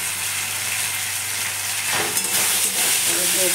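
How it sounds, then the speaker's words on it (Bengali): Ginger garlic paste sautés in a hot pan with a loud, dense, close sizzle that swells in the second half as it is stirred. No one talks. "নিয়েছি আদা রসুন বাটা, ভালো করে কষিয়ে নেব।"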